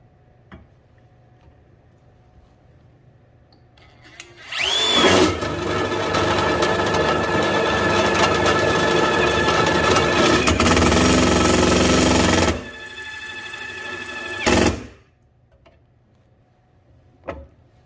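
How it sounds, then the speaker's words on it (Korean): An impact drill bores through steel plate, starting with a loud, steady mechanical roar that holds for about eight seconds, then stops, followed by a brief final burst and a short tail. "이번엔 철판 뚫고 철판 뚫어 보겠습니다."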